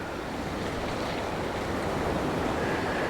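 Waves breaking onto a black sand beach below cliffs at El Golfo, a continuous, loud wash of surf with wind buffeting the microphone, steady throughout with no voices.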